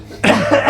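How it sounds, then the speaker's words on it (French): A single harsh cough, close and loud, bursting out after a brief quiet moment and trailing off into a rough throaty rasp. "Fait que je vais tousser encore ce soir."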